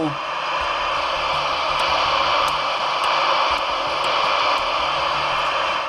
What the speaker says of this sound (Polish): i jest szum w głośniku.